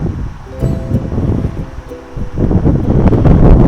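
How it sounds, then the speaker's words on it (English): Steady rushing wind gusts buffet the microphone outdoors while flying an Air65 drone, with a low rumble that swells louder toward the end. "Let me wait for this wind gust to die down for a second."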